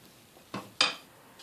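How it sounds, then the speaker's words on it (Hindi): A ladle or spoon clinks twice against a pot while murgh cholay is served, two short close metallic knocks in quick succession, quiet and without talk. "अब मैं इसको डिश आउट करके आपको दिखाती हूँ।"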